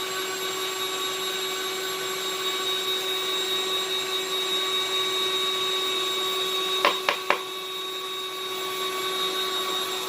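A 45-watt RadioShack 64-2060 desoldering iron draws up solder with three quick, sharp clicks in fast succession, over a steady electrical hum from the 1990s soldering station.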